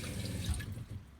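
Tap water pours from a faucet into a Berkey water filter inside a Hymer Aktiv Class B camper van built on a ProMaster, a soft continuous trickle, faint and close.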